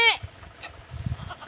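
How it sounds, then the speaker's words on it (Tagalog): A goat on a farm plantation gives one sharp, close bleat at the start, followed by quieter low rustling and faint distant calls. "Yun ang kambing ko mga idol. Yun mga kambing."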